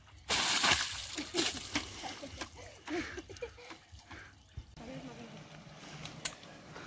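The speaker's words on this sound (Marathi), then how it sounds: "यांची तर बाईक धुतात मस्त पाण्यामध्ये" Water splashing and sloshing as motorbikes are washed directly in a river, with irregular splashes of varying loudness, a few sharp bursts, and voices talking in the background.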